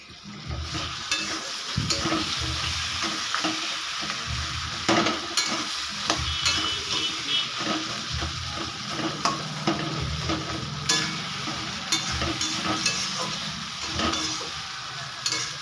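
Hilsa fish head curry with snake gourd sizzles and is stirred in a pan, steady frying hiss with repeated scraping spoon strokes and occasional clicks, close and continuous, no voices.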